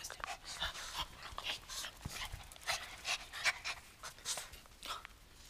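A neighbor's dogs pant rapidly and close by, quick rhythmic breaths repeating throughout with a faint whimper, and a person's voice briefly in the background.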